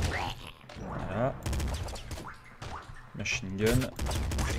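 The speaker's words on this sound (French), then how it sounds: "Machine gun." Machine gun fire in the video game Nuclear Throne comes in quick, choppy bursts, mixed under someone talking in French over the gameplay.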